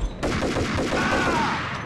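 Rapid gunfire from the Max Payne video game, a dense, continuous burst of shots lasting under two seconds and filling the foreground alone.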